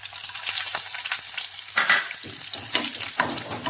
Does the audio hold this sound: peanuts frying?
yes